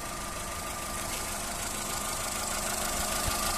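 A blue Volkswagen Polo 1.4 petrol automatic hatchback idles smoothly and steadily, a constant engine hum with no breaks heard from nearby.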